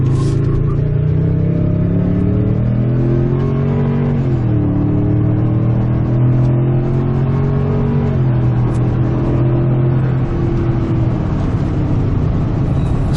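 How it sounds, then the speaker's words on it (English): A loud, steady simulated engine drone piped through the stereo of a 2023 Toyota Tundra Platinum, rising and falling in pitch as if accelerating, heard from inside the truck, continuous with no talk. "that's the fake engine noise that exists inside the Tundra that they're piping through the stereo system"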